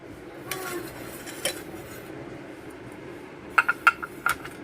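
Metal idli plates clink and clatter in a few quick, close knocks near the end as they are greased with oil, after quieter kitchen shuffling.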